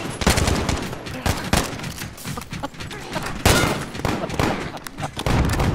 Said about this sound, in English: Oh, I know what you mean, you stupid gunshots.